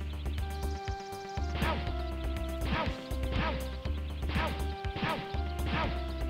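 Repeated smacking hits on NPCs in The Misadventures of Tron Bonne, a game, with sharp crashing whacks landing in a regular rhythm every second or so over constant background game music.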